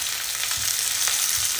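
Capsicum and cabbage squares stir-frying over a high flame for restaurant-style paneer chilli, giving a steady, close sizzle with faint stirring scrapes and no talk.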